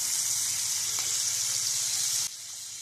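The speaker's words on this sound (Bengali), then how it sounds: "চিংড়ি মাছগুলো উল্টে দিচ্ছি, খুব বেশি ভাজবো না" Prawns fry in hot oil, giving a steady, faint, even hiss of sizzling with no talk.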